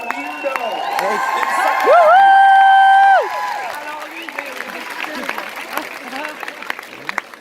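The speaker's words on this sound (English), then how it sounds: "I always get the biggest applause when I call people weird" A crowd at a social-media training seminar in an auditorium breaks into cheering, whoops and clapping, with a loud sustained shout peaking in the middle before scattered claps and crowd noise trail off.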